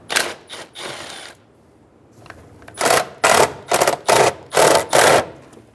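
An 8 mm socket ratchet loosening air box bolts on a 2003–2008 Honda Pilot, close and loud, with quick clicking bursts, a pause, then several rhythmic ratcheting strokes.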